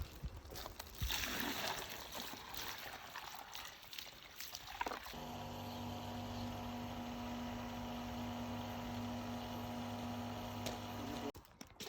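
A pool pump is primed with water flowing: rough splashing and trickling at first, then a steady motor hum with a mechanical tone, close and continuous until it cuts off near the end.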